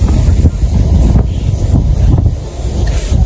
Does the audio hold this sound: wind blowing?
yes